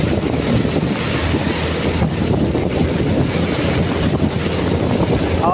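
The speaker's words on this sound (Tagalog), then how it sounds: "Ay grabe itong bagyo na ito." Strong typhoon wind roars and buffets the microphone over rushing, churning floodwater in La Union, Philippines, loud and continuous throughout.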